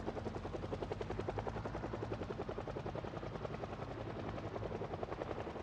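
A helicopter in the Project Zomboid video game flies overhead, giving a steady, loud, pulsing rotor thump that holds constant throughout.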